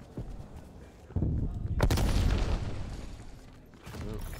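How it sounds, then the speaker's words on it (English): Grenade blast in the Call of Duty Cold War beta, a single heavy boom that rises after a thud and then rumbles and decays over a few seconds, with game noise and a brief radio voice around it. "Throwing grenade."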